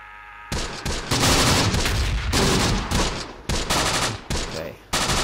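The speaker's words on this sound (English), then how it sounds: "They're getting peppered right now." Mortar rounds and machine gun fire in the war strategy game Close Combat: The Bloody First, a loud, dense barrage of crashing impacts and rattling bursts in repeated waves, no talk.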